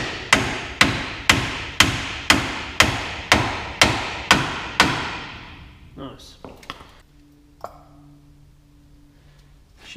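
Ten evenly spaced soft-hammer taps on parts of a Dana 44 heavy-duty closed-knuckle front axle ring out close and sharp, then stop, followed by some quieter clunks and handling noises.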